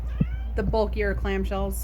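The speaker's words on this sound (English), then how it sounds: "if you hear meowing" A pet cat meows close by in a quiet room, a short series of drawn-out, rising and falling meows in quick succession while a person speaks softly underneath.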